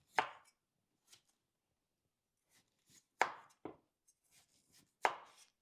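Tough waxed jicama skin being peeled makes several sharp, separate scraping cuts spread out with quiet gaps between them, close and fairly loud.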